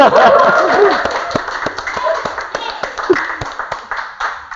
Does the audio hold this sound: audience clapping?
yes